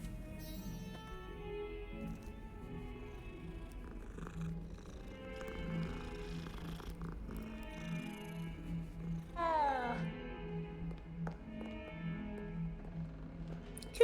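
A cat in the Hogwarts Legacy video game on Xbox Series X purrs steadily at close range, with a brief meow-like rise partway through, over soft background game music.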